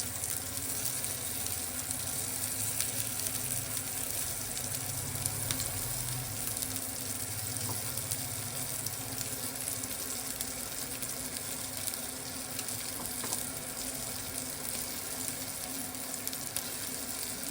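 Paneer tikka frying in oil or butter in a pan, a steady close sizzle with light crackle lasting throughout, alone and without talk.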